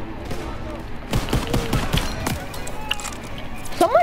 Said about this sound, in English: Who the heck is shooting me? Who's shooting me?